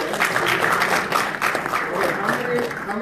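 Sustained applause from a campus audience at a political talk, dense and steady throughout at a fairly loud, even level.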